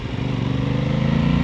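An Aprilia Tuono 660 roadster's engine hums steadily while riding, a close, even motorcycle drone with a fast regular pulse and no talking.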